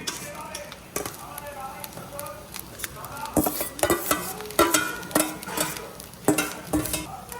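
Chow mein stir-fried with fried vegetables and eggs, a low sizzle under loud, irregular metal scrapes and clanks of a spatula against the pan, close and busy, with no speech.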